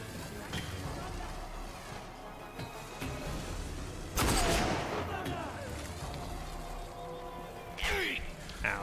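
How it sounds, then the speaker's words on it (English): Mortar explosions in the Blind Rage video game, several heavy booming blasts with debris rumble, one big burst near the middle and another toward the end, over a constant noisy game backdrop. "Oh, I see. It's a mortar."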